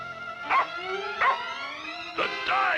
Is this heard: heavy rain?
no